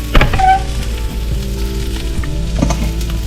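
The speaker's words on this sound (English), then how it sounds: "I'm going to add some turkey in here. I just added some barbecue mix and everything but the bagel mix in there because I love that stuff. And I'm going to saute this off." Turkey seasoned with barbecue mix and everything bagel seasoning sautés in a pan, a loud, close sizzle with a few sharp clinks and scrapes of a utensil near the start and again near the end.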